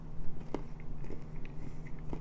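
Teeth bite into a MrBeast Feastables Quinoa Crunch chocolate bar, giving a few soft, crisp snaps spaced apart with quiet chewing between them, close up and fairly faint.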